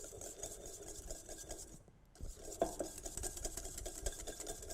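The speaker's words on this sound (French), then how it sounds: "je vais commencer au fouet à faire revenir mon beurre tranquillement" Whisk stirring butter in a large mixing bowl while making cookie dough, a quiet steady run of rapid scraping and clinking strokes with a brief pause midway.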